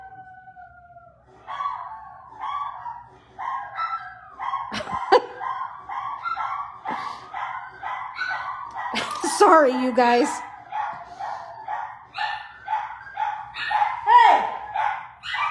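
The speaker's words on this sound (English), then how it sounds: "He doesn't even know what he's barking at." Brian the dog barks and howls repeatedly at nothing in particular, a run of close yips and bow-wows in an uneven rhythm, while a person talks over the noise.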